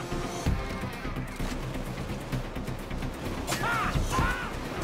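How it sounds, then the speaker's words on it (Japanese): Fireworks go off at a casino in the video game Payday 2: a steady crackle of popping bursts, then rising whistles near the end as rockets shoot up, all fairly loud and close. "俺は今な、カジノにふさわしいフィナーレ、そう、花火を打ち上げに来ました。"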